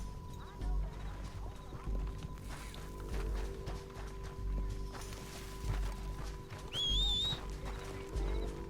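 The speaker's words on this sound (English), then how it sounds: "Horses." Soft, evenly spaced horse hoof clip-clops plod along in the video game Red Dead Redemption 2 under a steady background hum, with a brief high whinny near the end.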